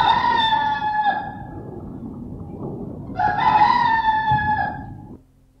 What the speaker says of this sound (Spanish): cantó el gallo por segunda vez.